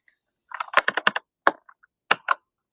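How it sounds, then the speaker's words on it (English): Clicky mechanical keyboard keys pressed in a quick burst of taps, a short pause, then a few more sharp clicks close by. "I have a clicky keyboard. You will hear every touch."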